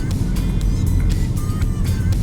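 A 2018 Volvo V90 T5 Cross Country coasts to a stop on its own, heard from inside the cabin as a steady low road rumble and drone, with no talk.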